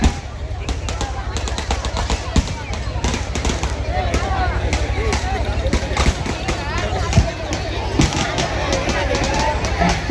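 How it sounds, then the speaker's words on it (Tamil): Rapid, loud crackling bursts of firecrackers go off in a dense string at a temple consecration ceremony, with a crowd murmuring beneath the popping. "வெடி போடலாம்."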